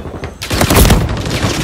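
A loud, close burst of rapid gunfire in the Call of Duty Modern Warfare III multiplayer beta, with overlapping shots rattling out after a short quiet lead-in.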